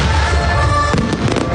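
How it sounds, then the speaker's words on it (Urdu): Bonfire Night fireworks display in a park in Dundee, a loud continuous crackle and bursts of explosions close by, with a faint crowd beneath. "رنگا رنگ آتش بازی نے آسمان کو گلنار کر دیا"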